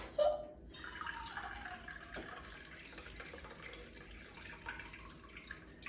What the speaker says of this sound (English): And 1 cup of water. This is not hot, it's just from the kettle.